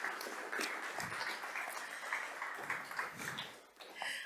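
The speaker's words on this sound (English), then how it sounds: "If we could all, round of applause." Faint, thin applause from an audience welcoming a member onto a panel discussion, scattered clapping with a low, distant room feel.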